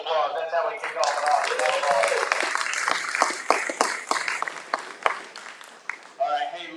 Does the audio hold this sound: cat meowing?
no